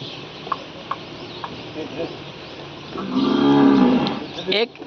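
A Kankrej cow lets out one long, loud moo close by at a cattle shelter in Kutch, after a few quieter moments of farmyard background noise.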